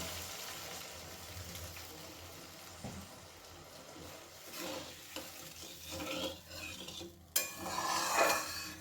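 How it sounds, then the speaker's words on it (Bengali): Water goes into a pan of bhetki fish curry on a medium gas flame, setting off a steady sizzling hiss that swells and bubbles more sharply toward the end, with no voices. "দিয়ে দিচ্ছি জল।"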